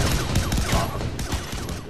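Pistol fire from the AJM-12 in Far Cry 3 Blood Dragon, a dense burst of loud, rapid shots crowding the whole stretch with little gap between them.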